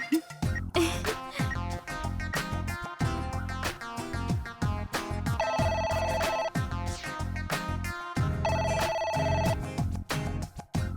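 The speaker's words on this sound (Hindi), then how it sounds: "बड़े मालिक क्यों फोन कर रहे हैं?" A telephone rings with a repeating electronic ringtone melody, loud and close, coming in bursts with short gaps between.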